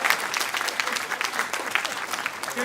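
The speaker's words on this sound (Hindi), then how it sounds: "तालियां बढ़िया बोलती।" Steady crowd applause at a Hindi comedy poetry recital, a hasya kavi sammelan, with dense clapping sustained across the whole stretch and a voice faintly audible beneath.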